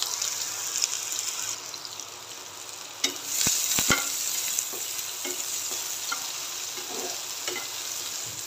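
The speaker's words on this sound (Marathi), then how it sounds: "कांदा मस्त लालसर कलर येईपर्यंत तेलावर परतून घ्यायचा आहे आपल्याला" Finely chopped onion sizzling in hot oil on high flame while being stirred, a steady frying hiss broken by sharp scrapes and clinks of the spatula against the pan.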